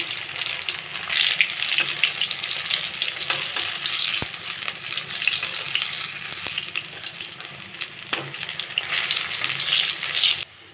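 Helencha leaf fritters fry in hot oil with a continuous close sizzle and crackle, a few clinks of a spatula as the fritters are turned, ending abruptly.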